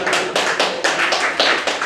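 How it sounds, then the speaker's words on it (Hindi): An audience claps in unison along to a live performance of a song, giving about seven loud, even beats in a steady rhythm, close and dense with many hands together, and no voice over it. "बजाओ ताली मेरी यार।"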